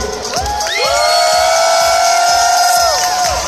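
Loud crowd cheering and whooping with shrill rising whistles, sustained for a few seconds, with a steady roar of voices underneath.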